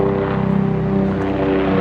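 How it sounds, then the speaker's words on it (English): An NYPD police helicopter flies directly overhead in New York, its rotor thumping in a fast steady pulse with a loud engine drone, brief and close, without talk. "NYPD, New York Pig Department helicopter flying directly over me."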